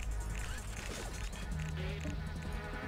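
Hive fighter creatures in the game Anachronox give off a continuous insect-like buzz and drone, layered with game sounds and faint chirps throughout.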